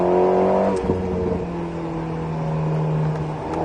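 An Alpine A110S engine accelerates on the Nogaro circuit during a driving course, a loud steady rising drone with harmonic whine and a brief shift near the start, heard from inside the car.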